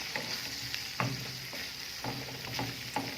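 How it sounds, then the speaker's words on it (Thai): Pineapple and pork are stir-fried together in a sizzling pan, with a continuous hiss and repeated scraping strokes of a spatula at a steady rhythm, close and without talk. "พี่น้อยก็จะผัดสับประรดไปกับหมู ก่อนเลยนะคะ"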